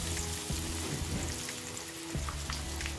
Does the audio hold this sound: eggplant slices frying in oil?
yes